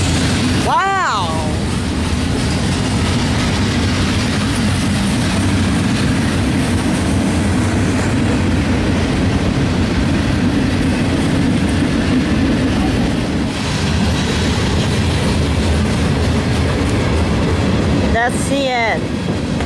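Westbound freight train rolling past trackside at Chesterton, Indiana, a steady loud rumble of cars with clickety-clack that fills the whole stretch, with a brief horn-like tone near the start and again near the end, and some voice faintly underneath.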